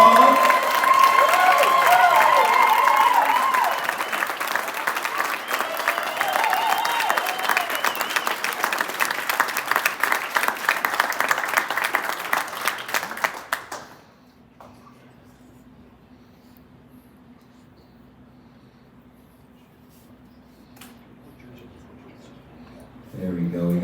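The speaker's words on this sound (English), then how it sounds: "can you please give Charlie Millheiser a huge round of applause?" A crowd at the 2025 Nashville SC Unified Team signing day claps and cheers loudly for about fourteen seconds, a dense burst of applause that then cuts off abruptly into near quiet with faint background murmur.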